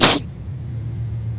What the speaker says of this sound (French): j'ai le droit d'éternuer, punaise